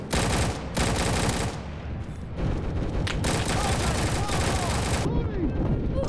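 Rapid automatic gunfire from a Roblox Call of Duty-style shooter, dense bursts of shots running nearly continuously with brief gaps, loud and close, with a player talking over parts of it.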